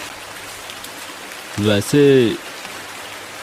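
Heavy rain falls in the city outside a hostel as a steady broadband hiss throughout, with a brief spoken voice in the middle over the constant downpour.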